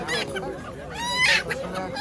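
A domestic duck at a rural village poultry market gives a few close, nasal honking calls over a low murmur of market background noise.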